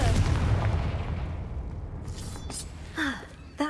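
In the Hogwarts Legacy video game, a Confringo spell bursts as a heavy explosive boom that decays into a rumbling tail, followed by a couple of brief whooshing spell effects near the end.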